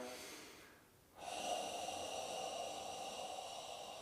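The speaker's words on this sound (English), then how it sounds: "I'm breathing just to stay conscious here and connected." Heavy breathing during a relaxation and exercise session, a soft close exhale fading into a brief pause, then a sharp snort-like inhale followed by a sustained airy breath, quiet and near.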